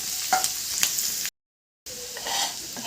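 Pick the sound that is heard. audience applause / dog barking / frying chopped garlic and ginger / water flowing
frying chopped garlic and ginger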